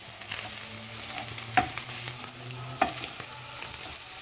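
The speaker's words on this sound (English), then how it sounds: "The onion, stir that in, with the garlic" Onion and garlic sizzle steadily in a frying pot while a spoon stirs them, with two distinct scraping clacks against the pot over a constant background hiss.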